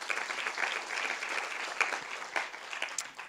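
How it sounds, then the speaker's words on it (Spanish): Congregation applauding at a church meeting, a dense, steady wash of clapping from many hands that holds at an even level for several seconds, with no voices over it. "¿Puede dar un aplauso a la palabra de Dios?"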